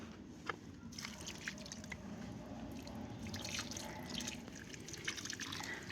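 Steady splashing and trickling of water pouring onto plants, with occasional sharper drips, continuous and fairly quiet, close by.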